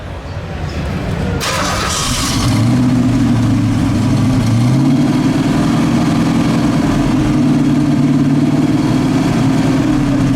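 An original-owner 1969 Mercury Cyclone GT 390 with a four-speed cranks and fires, settling into a loud, steady, rumbling idle close by, with a slight rise in pitch partway through.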